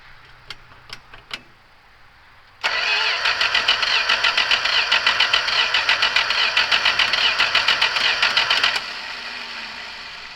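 Classic Mopar engine cranking without firing, with a few clicks first, then about six seconds of loud, rapid, even rhythmic starter churning up close before it stops.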